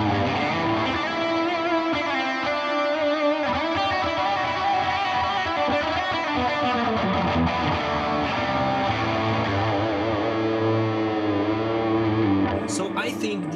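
Overdriven electric guitar through the second overdrive channel of a Tone King Imperial MKII amp plugin from Neural DSP, playing sustained distorted chords and lines at steady loudness, with a brighter flurry near the end.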